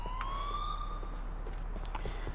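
An ambulance siren in Grand Theft Auto IV rises in a wailing sweep, heard fairly faint over a low steady hum, with scattered soft clicks and taps.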